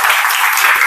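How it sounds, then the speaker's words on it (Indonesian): A class claps their hands together in a loud, dense burst of applause that fills the brief moment without any talking. "Sekali lagi, tepuk tangan buat kita."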